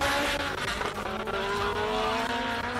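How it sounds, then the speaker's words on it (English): A classic racing car blasts past at a hillclimb, its loud engine holding a high sustained note with a rising whine and hints of tyre squeal, close and alone. "we can hear that car right through our soundproof commentary box"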